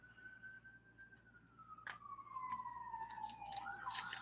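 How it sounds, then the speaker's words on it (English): Emergency siren wailing in the distance, a single steady tone that slowly drops in pitch, faint and far off under quiet room noise with a few nearby rustles and clicks. "We got some sirens in the background as we get to our last 2 packs."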